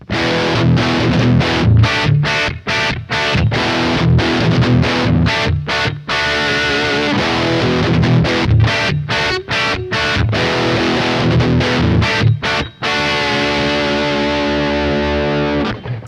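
Distorted electric guitar lead run through Guitar Amp Classics amp simulation with room reverb, loud sustained chords and picked notes with brief stops, ending on a ringing held chord.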